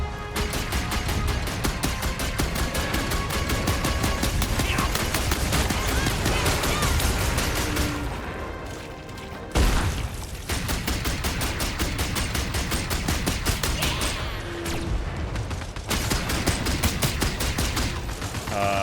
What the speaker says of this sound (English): This pulse gun's really the best gun, you know.